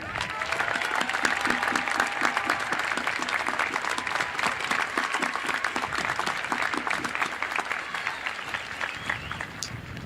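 Sustained applause at a high school commencement for magna cum laude graduates, a large crowd clapping steadily and evenly for about ten seconds, moderately distant in a big hall.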